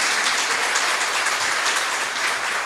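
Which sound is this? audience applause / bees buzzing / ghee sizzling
audience applause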